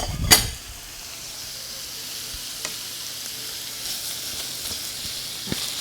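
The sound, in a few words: ground meat browning in a pan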